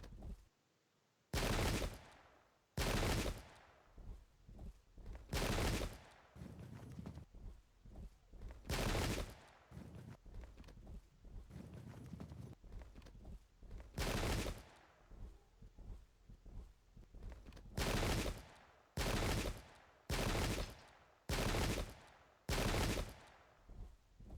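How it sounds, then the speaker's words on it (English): Artillery fire from the English Civil War strategy game Pike and Shot, aimed at cavalry: a string of loud, abrupt gun blasts, some isolated and some in quick clusters, separated by quieter battlefield background noise. "now the gun's going to go back to pounding my cavalry if it can"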